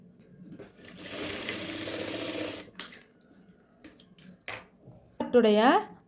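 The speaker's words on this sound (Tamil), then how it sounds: "இப்போ நம்ம கட் பண்ணியிருக்கிற இந்த கிராஸ் பீஸை ஜாயிண்ட் வச்சு ஸ்டிச் பண்ணிக்கலாம்." A sewing machine runs in a steady, close whir for about two seconds while stitching cut cross pieces of nighty fabric together, followed by short clicks and bursts, with someone speaking briefly afterward.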